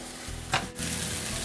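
Onions cooking down in a pan for Swiss steak, with a continuous close sizzle, a brief stirring scrape near the middle, then the frying sound carrying on steadily.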